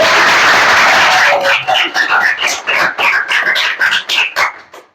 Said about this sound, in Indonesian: Ayo beri tepuk tangan sekali lagi